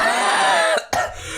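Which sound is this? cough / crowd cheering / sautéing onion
cough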